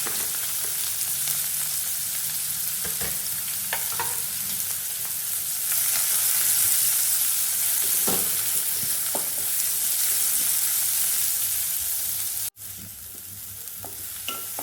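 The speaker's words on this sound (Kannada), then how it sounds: "ಈಗ ಈರುಳ್ಳಿ ಹಾಕ್ಕೊಂಡು ಚೆನ್ನಾಗಿ ಹುರ್ಕೊಳ್ಬೇಕು" Onions frying in oil with mustard seeds for a cauliflower palya, making a loud continuous sizzle with occasional stirring scrapes; the hiss drops abruptly near the end.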